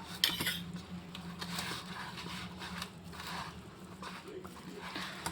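A spoon mixes thick bottle gourd muthiya batter with yogurt in a bowl, making soft repeated scraping and tapping strokes over a low steady background hum.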